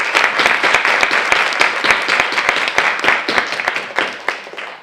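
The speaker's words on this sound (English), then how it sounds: "Round of applause for all the spelling." Audience applause for spellers at a 2020 school spelling bee at a magnet school, a dense, steady wash of many hands clapping close by for the full length, with sharp individual claps standing out.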